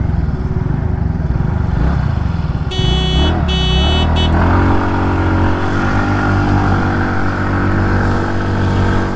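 Yamaha Fascino 125 and TVS Ntorq 125 scooters accelerating hard side by side in a drag race, loud steady engine drone with rising pitch and heavy wind rush, a brief horn-like tone partway through.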